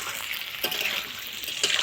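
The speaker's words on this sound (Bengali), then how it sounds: "এবার আলুটা আমি ভালো করে ভেজে নেব।" Potatoes fry in hot oil for a Bengali mixed vegetable dish, giving a steady, close hiss of sizzling with two brief louder crackles. No one speaks.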